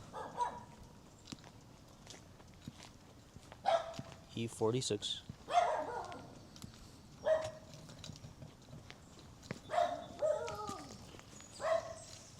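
A dog barks repeatedly in sharp, uneven bursts, mixed with whiny yips, while a person talks briefly nearby.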